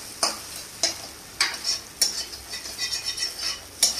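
A utensil scrapes and stirs scrambled eggs in a hot pan at regular intervals over a soft sizzle, each stroke a short sharp scrape up close.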